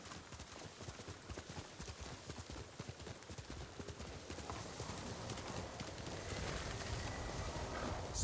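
A horse galloping in the video game Ghost of Tsushima, its rapid, even hoofbeats drumming loud and close throughout with a faint whinny and bird calls in the background.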